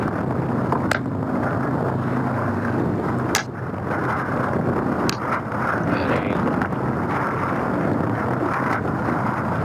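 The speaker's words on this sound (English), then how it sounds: "See, there's the wind." Steady wind roaring across the microphone while paddling a boat into the wind on the water at Berkeley's Aquatic Park, a constant rushing noise broken by a few brief knocks.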